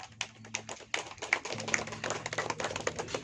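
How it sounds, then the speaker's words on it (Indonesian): A small group of visitors clapping at the Sasak traditional village of Ende in Lombok, sparse uneven claps building into a thicker patter, fairly quiet with a low hum underneath. "Boleh tepuk tangan dulu Bapak Ibu semua?"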